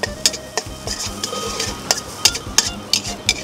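Garlic and chili sizzle and crackle in a hot wok as the garlic starts to burn, while a metal utensil scrapes and clanks against it in quick, irregular strokes, close up.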